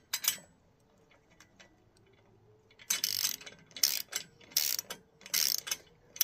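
A ratchet wrench clicks in several quick bursts while tightening bolts during assembly of a Woodland Mills HM130MAX portable sawmill outdoors; after a quiet opening, five crisp, close ratcheting runs follow with short pauses between them.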